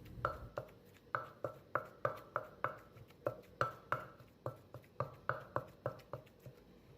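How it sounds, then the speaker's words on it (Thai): Shrimp paste and southern Thai curry paste are pounded together in a mortar for a mackerel coconut curry. The pestle strikes land in a steady, brisk rhythm of about twenty sharp thuds, close and fairly quiet. "เดี๋ยวมลุงจะนำกะปินะคะ เอามาตำรวมกับพริกแกงคั่วใต้สักหน่อยเพื่อความเข้มข้น"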